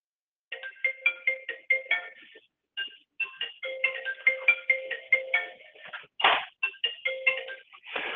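A 3CX IP desk phone and a PC softphone ring together on an incoming call: a bright electronic ringtone repeats in quick trilling bursts with brief gaps, loud and close, with no voices.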